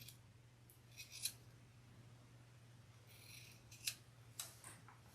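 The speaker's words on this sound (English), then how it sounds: "I'm just going to trim this just a little." Scissors trimming a piece of fabric for a crossbody bag, a few quiet, crisp snips spaced apart over a faint steady hum in a quiet room.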